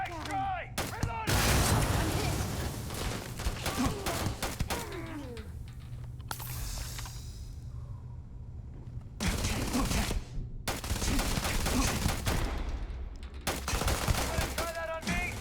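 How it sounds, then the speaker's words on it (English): Gunfire in Starfield, with repeated loud bursts of automatic shots and sharp cracks spread across the stretch, separated by brief lulls, with voices shouting among the shots. "Just keep shooting!"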